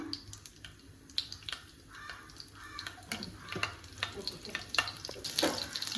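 Green chillies fry gently in coconut oil over a low flame, a quiet, uneven sizzle broken by scattered crackles and stirring scrapes.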